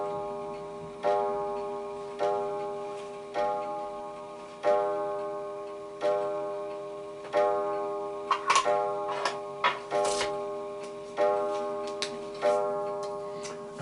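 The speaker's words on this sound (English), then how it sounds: "what I'm going to do for the purposes of this is demo the actual sound." An antique wind-up pendulum wall clock with a wooden frame ticks in a steady, even rhythm, close and clear, with ringing metallic strikes sounding partway through.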